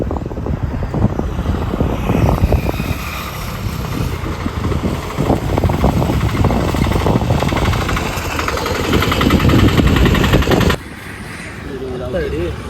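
A loud, rattling small auto rickshaw engine runs steadily close by, then cuts off abruptly near the end, leaving a quieter background.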